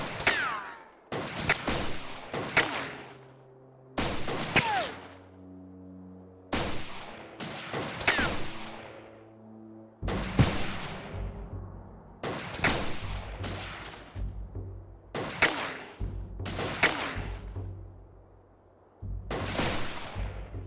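Gunfire in a dinosaur hunting video game: sharp shots in short bursts and single cracks spread across twenty seconds, each with a ringing tail, loud and close with gaps of quiet between.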